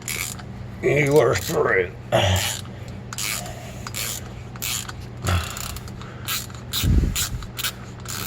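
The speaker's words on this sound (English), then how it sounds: "Cut a little bit, back up, clean the threads." Hand tap cutting threads into a hole for a switch, with short scraping, ratcheting strokes in bursts and pauses as it is backed out, close up, and a voice speaks briefly.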